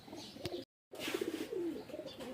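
Pigeons coo softly nearby in short throaty bursts, with a brief gap of silence partway through.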